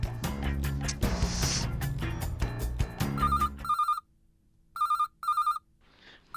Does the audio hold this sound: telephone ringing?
yes